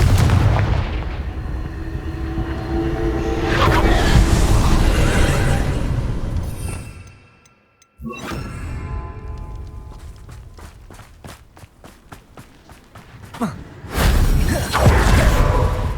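Confringo blasting-spell explosions from the Hogwarts Legacy video game go off as loud booming, crackling blasts with whooshes, cut by a brief silence and followed by scattered sharp cracks and another heavy burst.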